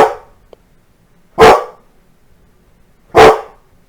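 A dog barks twice, loud and close, the sharp barks spaced well apart, with a tiny faint yip just before them.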